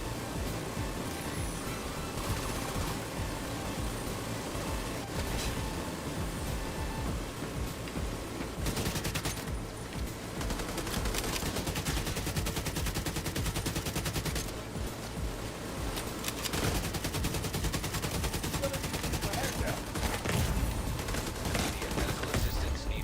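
Sustained gunfire from the video game Marvel Cosmic Invasion, dense bursts and volleys rolling steadily at even loudness throughout, with no speech over it.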